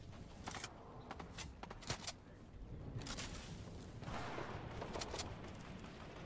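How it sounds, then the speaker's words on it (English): Faint, scattered gunshots rattle in the distance during a Fortnite Chapter 2 Season 4 solo arena match, several quick cracks in loose bursts over a low, steady background, with no talk. "Right after the kill, I hear gunshots to the south."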